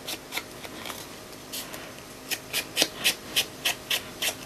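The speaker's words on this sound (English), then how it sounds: "I want to add slight sponging. Very slight, just using the leftover ink" Ink dabbed lightly onto paper with a sponge for a Stampin' Up 3D blossom-punch flower card: soft close rubbing strokes, faint and irregular at first, then a run of about eight evenly spaced brisk dabs.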